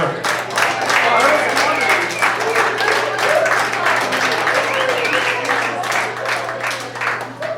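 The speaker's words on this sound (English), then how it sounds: "Give Josh a big round of applause for bringing comedy to your bar." Bar audience clapping after a comedy hypnosis show, a full, sustained round of applause from a crowded room that holds steady and tapers slightly at the end, with some voices mixed in.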